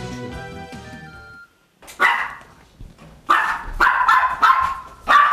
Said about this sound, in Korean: 멍멍.